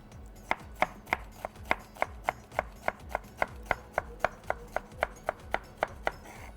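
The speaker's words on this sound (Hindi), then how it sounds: "इस तरह से आपने शिमला मिर्च को चॉप कर लिया" A knife chops bell pepper (capsicum) on a board, giving a steady run of crisp, evenly spaced cuts, about three per second, close and clear with no voices.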